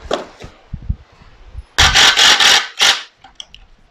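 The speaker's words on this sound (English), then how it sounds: "The noise you're hearing, by the way, not stripping the screw. It's just the impact." Close, loud bursts of an impact driver's rattling hammer as it drives a screw into a wooden garden frame, with quieter clicks and handling noise around the main burst.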